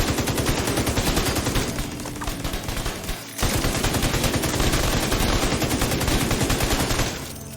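Sustained rapid gunfire from a light machine gun and an auto turret in The Division 2, loud and continuous with a brief dip near the middle before the rattling bursts resume.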